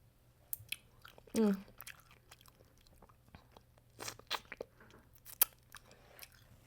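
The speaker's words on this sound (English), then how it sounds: "Retired emo eats edamame." Chewing edamame up close, soft wet crunches and squishy bites in scattered bursts against a quiet room, with no talk over them.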